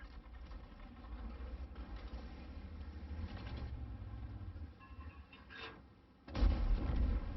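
Tank cannon firing a HEAT shell in World of Tanks, an E50 M, a single heavy booming blast near the end over a low engine rumble, no talking.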